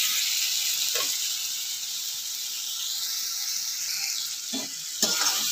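Potatoes and tomatoes cook in hot oil in a pan, a steady, close sizzle and hiss with a few brief stirring scrapes.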